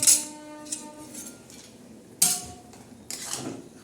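Raw mutton with spices, onion and curry leaves is stirred in a metal pot: a few separate bursts of spoon clinks and scrapes against the pot, close by, with quiet gaps between them.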